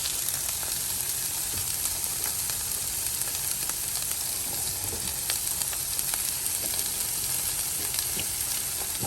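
Potatoes and carrots sizzle and fry steadily in a skillet with beef stew, a continuous close crackling hiss with small pops and no talking.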